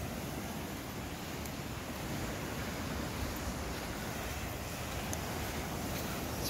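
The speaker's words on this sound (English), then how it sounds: "The waves aren't as bad as I thought they would be." Small waves wash continuously onto a sandy Lake Michigan shore, a soft, even broadband surf with some wind noise and no voices.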